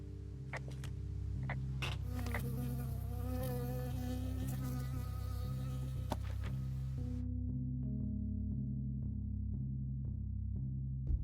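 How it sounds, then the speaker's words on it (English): Bee buzzing in the video game Firewatch, a steady close drone over a low, pulsing musical score, with short ticks and creaks scattered through; the buzzing cuts off partway and the music carries on alone. "I got stung by a bee."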